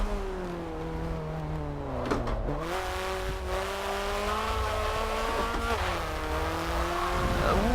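Engine of a Hyundai N car driving a race track in a video game, a steady revving drone that rises and shifts pitch with gear changes, with faint tire noise, continuous and close throughout.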